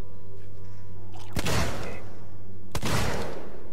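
Gunfire from the video game Alien Isolation: two loud, sharp shots about a second and a half apart, each with a booming tail, over a low steady game hum.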